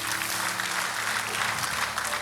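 Church congregation applauding during a worship service, a dense continuous patter of clapping with a low hum underneath, steady and moderately close throughout.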